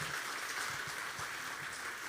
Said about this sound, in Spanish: aplauso al Señor, por favor,